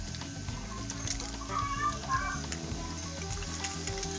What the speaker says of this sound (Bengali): দেখো আমি এইভাবেই ডিমটাকে ভেজে নিচ্ছি